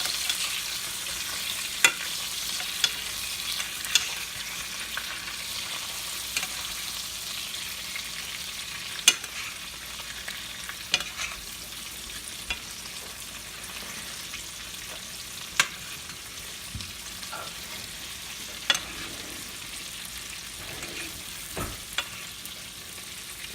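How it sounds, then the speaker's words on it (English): A steak sizzling steadily in a pan as the heat drops, with sharp intermittent clicks of a spoon basting it every second or few, close and continuous with no talking. "you just take a spoon,"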